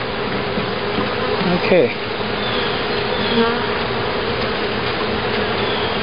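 Honey bees from a swarm hive drone in a steady, dense buzz during an inspection, loud and close, with a brief spoken word and a single bee whizzing past near the mic.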